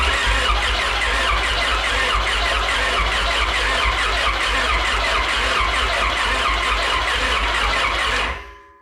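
A Honda F20B car engine cranks and runs with a loud, rough, steady roar and deep low rumble, then cuts off abruptly near the end.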